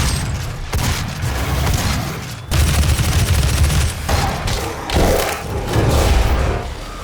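Combat from the video game DOOM 2016: dense bursts of gunfire, booming explosions and heavy thuds come in overlapping waves, loud and continuous, with no talking.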